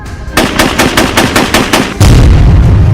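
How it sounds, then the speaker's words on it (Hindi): Rapid bursts of AK-47 rifle gunfire from an attack on Donald Trump, about eight sharp evenly spaced shots, then a loud sustained roar of continuous fire with heavy low rumble. "डोनाल्ड ट्रंप पर AK-47 से फायरिंग"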